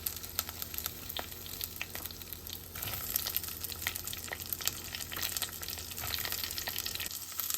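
Mustard seeds, cumin, fenugreek, green chili, curry leaves and onion frying in a clay pot, giving a steady dense sizzle with crackles and soft stirring, close and moderately quiet with no talk.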